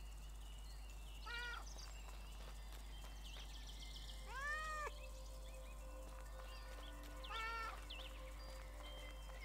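A cat in the video game Little Misfortune meows three times, each call a clear rising-falling mew spaced a few seconds apart over a steady low hum, with no talking.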